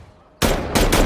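A sudden loud, sharp gunshot-like blast after a quiet moment, followed by two more bursts in quick succession.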